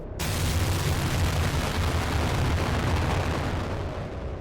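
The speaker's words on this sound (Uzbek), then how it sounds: "Ijtimoiy tarmoqlarda tarqalgan videolarda portlash juda kuchli bo'lgani va uning to'lqini ancha uzoqda bo'lgan avtomobillarning oynalariga ham shikast yetkazgani ko'rinadi." A propane gas filling station explosion, heard as a loud, sustained, dense rumbling roar of blast and fire filling the whole stretch, close and overwhelming, with no voices.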